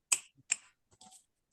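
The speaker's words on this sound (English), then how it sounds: "Let's give him a round of applause or some snaps." Finger snaps from a webinar audience, with two crisp, close snaps followed by a softer, scattered pair, alone in near silence.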